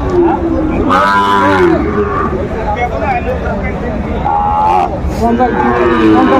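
A Sahiwal bull calf lows loudly at a Faridpur cattle market, two or three long moos close by, with a crowd murmuring and voices talking underneath throughout.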